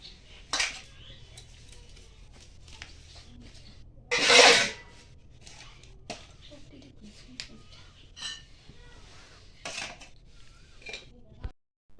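Spoon stirring drained sour yogurt in a bowl, with scattered scraping and clinking strokes, one louder rasping burst, close by and without talk.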